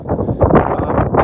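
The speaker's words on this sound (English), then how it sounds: "It is a bit cold and it's a bit windy" Loud wind buffeting a microphone outdoors at a cold campsite, a rough, rumbling roar that surges and dips continuously with no clear voices.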